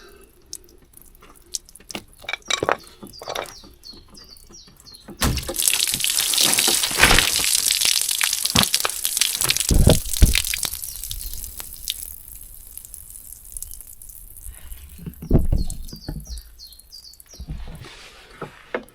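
Water drains out of a Ford Mondeo Mk4 windscreen washer reservoir, with scattered close drips first, then a steady splashing, pouring rush for several seconds that thins back to sporadic drips.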